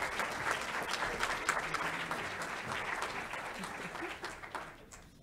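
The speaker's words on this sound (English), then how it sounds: "Can we give him a round of applause?" Warm applause from the audience at a university graduation celebration for a doctoral graduate, a dense round of clapping that holds steady and then fades away toward the end.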